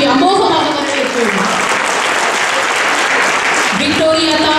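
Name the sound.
applause welcoming the Tamil teachers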